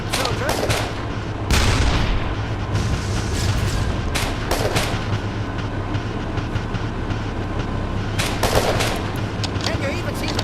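Rifle fire at distant targets in the WWII shooter game Iron Front, heard as sharp broadband shots at irregular intervals over a steady rumbling background, fairly loud and without talk.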